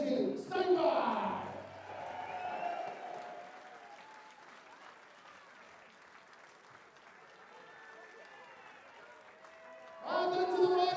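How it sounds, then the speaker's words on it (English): A darts championship crowd at the WDF Lakeside World Championship gives a long, steady round of applause, rising and then fading, with an announcer speaking at the start and end. "Let's give a massive round of applause for Kenji Steinbach."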